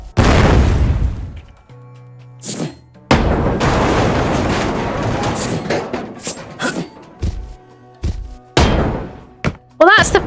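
In the Ship Graveyard Simulator 2 video game, explosives blow apart ship parts. Several booming blasts and heavy thuds come at irregular intervals, some close together and some spaced apart, with short quieter gaps between them.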